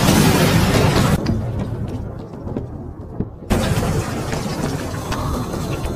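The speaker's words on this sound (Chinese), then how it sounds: "希尔直接一发魔法把墙壁轰碎" An anime magic blast smashes a dungeon wall, heard as a heavy rumbling roar that cuts to a low, quiet lull before a second burst of crashing debris noise.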